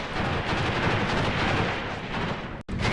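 Sustained gunfire and artillery rumble on a village in a modern jungle combat war game set in Africa, a dense, continuous barrage of overlapping shots and booms, with a brief cut near the end.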